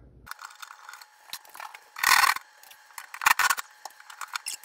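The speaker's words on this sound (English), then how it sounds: "I'm gonna take and unscrew those screws from the" Screws being backed out of a ceiling joist while an old bath vent fan is removed overhead, heard as sparse ratcheting clicks and wooden creaks with two louder scraping bursts, close and fairly quiet with no talk.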